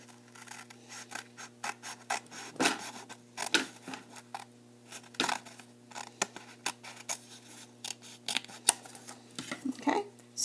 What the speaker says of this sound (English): Now you are going to cut this piece off.